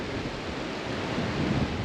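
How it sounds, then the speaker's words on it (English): Steady, strong wind buffets the microphone with a continuous low roar in regional Australia, mixed with what sounds like surf in the background; no one speaks. "the temperature is just good, but it is too windy"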